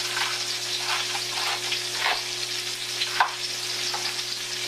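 Salmon fries in a hot pan with a steady, close crackling sizzle, broken by a few louder pops and spatters over a constant kitchen hum.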